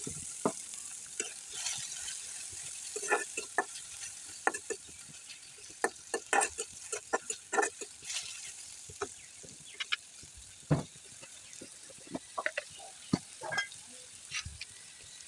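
Chopped onion frying in a little oil in a pan, a steady close sizzle broken by frequent sharp pops and crackles, with no voices.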